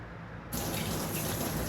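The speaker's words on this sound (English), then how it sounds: "I like to start with the water running before I put the cats on the bath" Water gushes steadily from a bathtub tap after a brief quiet start, a constant close hiss and splash with no talking.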